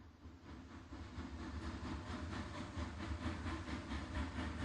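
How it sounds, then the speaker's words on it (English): Train in the Victorian-era game Seek: Light through Darkness, a soft continuous rolling rumble with a faint rhythmic clatter and hiss, steady and fairly distant, with no voices. "Trains, sounds like."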